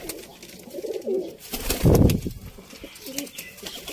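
A pigeon coos in soft, low repeated calls, with a brief burst of wing flapping or rustling in the middle and faint background noise.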